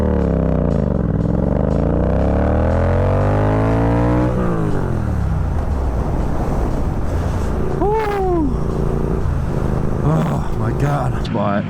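A Triumph Rocket 3 Roadster motorcycle accelerates hard from zero to sixty, its engine note climbing steeply through the gears with brief dips at each shift, loud and close, with wind buffeting over the microphone throughout.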